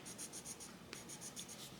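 Colored pencil scratches on paper in close, quiet, rhythmic strokes, with a short pause partway through before the steady shading resumes.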